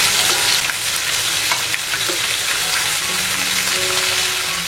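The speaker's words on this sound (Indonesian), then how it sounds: "Kemudian tambahkan bawang merah, bawang putih dan juga kemiri yang sudah dihaluskan tadi. Lalu aduk-aduk kembali hingga bumbunya matang." Rice vermicelli stir-fried with ground shallot, garlic and candlenut: a steady loud sizzle with scraping stirring strokes throughout, no talking.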